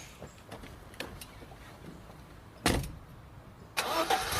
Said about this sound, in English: Oh, he's going by car.